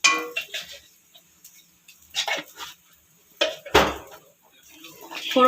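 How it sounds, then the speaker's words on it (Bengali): A utensil scrapes and clinks against a pan while white cumin is stirred in hot oil for a tempering, scattered metallic taps and scrapes in short bursts, with speech heard throughout. "ফোড়নটা একটু নাড়াচাড়া করে নেব।"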